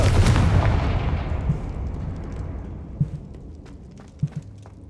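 A Confringo fire spell from the video game Hogwarts Legacy lands with a loud, deep blast that rolls and decays over several seconds, followed by a couple of small thuds.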